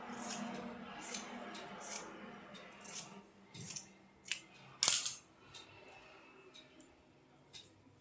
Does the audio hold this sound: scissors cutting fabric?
yes